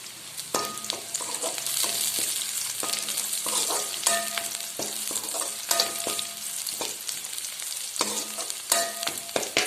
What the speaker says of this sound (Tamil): அதில் கொஞ்சம் வெந்தயம் பொரிய விட்டுட்டு ஆனியன் இந்தளவுக்கு பொன்னிறமாக வதங்குற வரைக்கும் கொஞ்சம் வதக்கிக்கணும்.